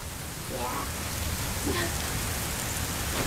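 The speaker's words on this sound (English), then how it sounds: "This is just sleet." Sleet falling outside on a snow day, a dense steady hiss of ice pellets pattering on surfaces, fairly close, with faint voices briefly in the background.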